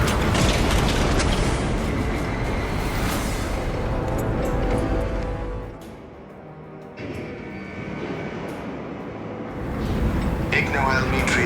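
A heavy mechanical lift in a Warhammer 40k game at the Longinus Gap research facility grinds and rumbles as it descends, loud and continuous, dipping briefly before resuming with clanking metallic noise and a voice speaking over it.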